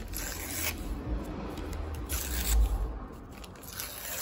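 Scissors cut along the edges of a sheet of paper in a ritual craft, with irregular close scraping and crunching snips repeating over a few seconds, no voice.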